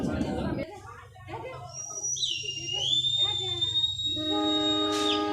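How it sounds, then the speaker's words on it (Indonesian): A train horn or whistle sounds in long sustained tones, with rumbling and clanking of the Walahar local commuter train getting underway nearby on the Purwakarta–Cikarang line in Indonesia, no talking. "Kereta api lokal Walahar sudah mulai jalan ya"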